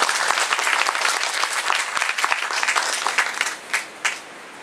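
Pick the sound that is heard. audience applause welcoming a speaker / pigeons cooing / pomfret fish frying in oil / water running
audience applause welcoming a speaker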